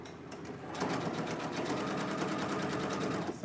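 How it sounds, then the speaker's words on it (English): A sewing machine stitches a dress seam in a steady, rapid mechanical run, close and fairly loud, starting after a brief quieter moment and continuing alone. "I'm stitching it as close as possible."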